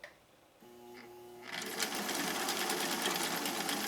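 After a quiet start with a brief steady hum, a sewing machine starts up and stitches a green stitch using cam D, running fast and steady in a close, rapid mechanical whir.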